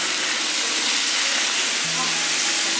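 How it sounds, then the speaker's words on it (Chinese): Zucchini stir-frying over high heat in a wok with soy sauce, oyster sauce and vinegar, giving a steady loud sizzling hiss that stays constant throughout. "大火翻炒，煮熟就可以出锅"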